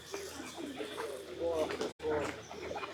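Pigeons at a Buddhist temple in Chiang Mai, Thailand, give soft, fairly close coos and calls scattered through steady outdoor chatter, with people talking nearby over a low background murmur.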